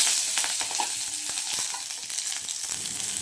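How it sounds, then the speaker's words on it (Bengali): Steady sizzling of nigella seeds, green chillies and onion frying in hot oil in a wok, with scattered crackles and a few light stirring scrapes throughout. "এখানে আমি কড়াইতে তেল দিয়ে দিয়েছি। কড়াইটাকে গরম হতে ছেড়ে দেবো।"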